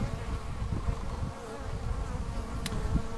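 A honeybee swarm settled in a small five-frame hive box hums with a steady, dense buzz, close and continuous, with no voices.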